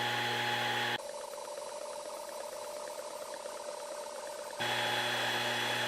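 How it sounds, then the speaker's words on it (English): A Longer 20W laser color-engraving stainless steel gives off a steady, even hiss-like whir with a faint rattle, holding constant for several seconds between louder stretches of machine noise. "we're going to run a color engraving test on this stainless steel"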